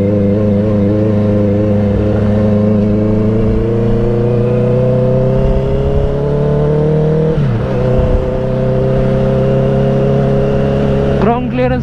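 A Honda CBR650R motorcycle fitted with an aftermarket exhaust rides off-road through farm fields, its engine droning steadily and loudly with a brief rev change near the end; a voice talks over it.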